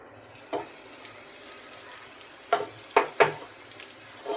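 Flying fish (parava/kola) roasting in a pan gives a steady soft sizzle, broken by a few sharp clinks of a utensil against the pan.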